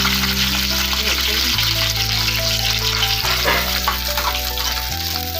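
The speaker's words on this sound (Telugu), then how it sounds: "సో గ్రీన్ చిల్లీని ఇలా మనం చక్కగా ఫ్రై చేసేసుకోవాలి కొంచెం." Green chillies frying in hot oil, a loud continuous sizzle with crackling spatter close up, steady throughout with a low hum underneath.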